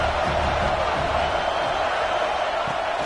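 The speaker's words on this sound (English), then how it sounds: "This crowd bringing the energy and noise early" Dense, steady roar of a packed football stadium crowd at an Oregon Ducks game, loud and continuous with no breaks, a broad wash of many voices.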